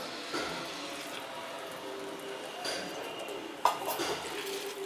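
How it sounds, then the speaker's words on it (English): Small pours and drips of water trickle into a pot of rice kheer with mashed khova, a quiet intermittent splashing with a sharper slosh near the end. "I'm adding little more water."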